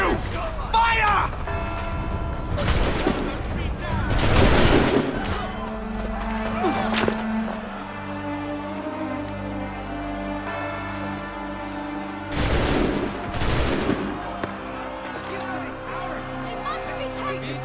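Musket volleys crack in Assassin's Creed III, two bursts of loud broadband blasts with a few seconds between them, under a shouted order and game ambience.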